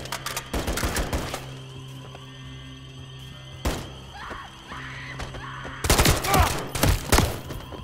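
Gunfire in the Call of Duty Modern Warfare III campaign: a quick burst of close shots near the start, a single sharp report midway, then another cluster of loud shots toward the end over a low ambient hum.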